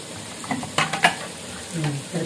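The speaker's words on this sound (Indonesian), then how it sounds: "Mam Trizi aduk-aduk saja pakai sendok buat tumis." A spoon stirs coconut milk in a pan, soft scraping strokes and a few light clinks, quiet and close with gentle sizzling beneath.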